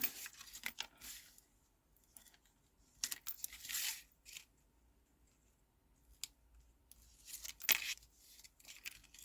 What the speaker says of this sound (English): I'm going to have to use my scissors